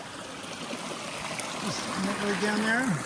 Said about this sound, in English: I just got some water from this wonderful little stream. It's coming down here.